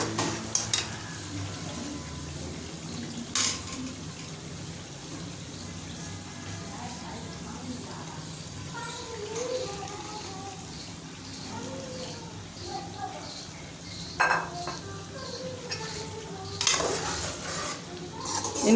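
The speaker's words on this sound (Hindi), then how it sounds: "बैंगनों में आहिस्ता से चम्मच को चला के" A spoon stirs fried eggplant and chilies into masala in a pan, giving soft scraping and occasional sharp clinks against the metal, with sizzling underneath and a voice speaking over much of it.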